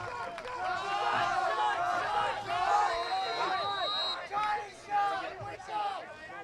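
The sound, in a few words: lacrosse game crowd cheering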